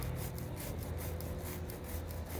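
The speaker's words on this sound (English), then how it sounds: "rub the chain around as I remove some of the excess oils and dirt." A rag rubbed along an oiled motorcycle chain to wipe off excess oil and dirt, giving a close, steady scrubbing swish with rhythmic strokes.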